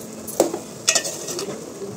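Sago cooking in a pot with sunflower oil is stirred with a utensil, giving a few clinks and scrapes against the pot over a soft, faint bubbling sizzle, close and without talk.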